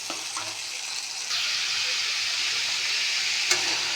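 Boiled cabbage tipped into a pan of frying ginger, tomato and green chili masala, a hissing sizzle that swells sharply partway through and holds steady, close, with one small clack near the end.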